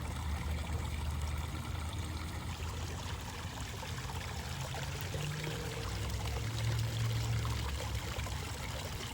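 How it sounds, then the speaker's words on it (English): Small backyard pond waterfall spilling over rocks, a steady close rush and trickle of falling water that runs without a break, with a low rumble underneath and no talking. "There's the waterfall."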